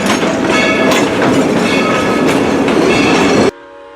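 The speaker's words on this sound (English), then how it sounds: "But narrow gauge steam is an even rarer sight." A narrow gauge steam train at a theme park rolls along the rails with a loud, steady rumble and clatter that runs for about three and a half seconds, then cuts off.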